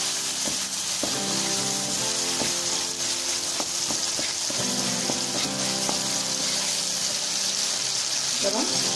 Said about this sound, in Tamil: பூண்டு இஞ்சியும் போட்டு கொஞ்சம் நேரம் வதக்குவோம்.